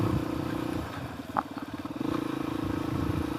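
A Suzuki DRZ400S off-road motorcycle runs across a hayfield, its engine droning steadily, then dipping briefly with a fluttering, chattering burst as the rear wheel spins out before the throttle picks back up, close and continuous.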